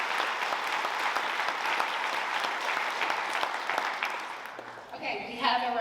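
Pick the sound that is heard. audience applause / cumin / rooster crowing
audience applause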